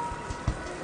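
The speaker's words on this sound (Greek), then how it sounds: "Να περιμένουμε να σταματήσει η βροχή" Steady rain falls and patters on a surface, a continuous wash of drops with no talk.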